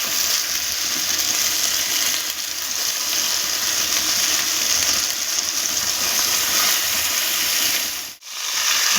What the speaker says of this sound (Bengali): এবারে আমি লাল শাকটা দিয়ে দিচ্ছি।